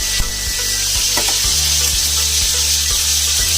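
A porterhouse steak sizzling loudly in a hot pan just after being flipped, a dense steady frying hiss with faint periodic knocks and scrapes underneath.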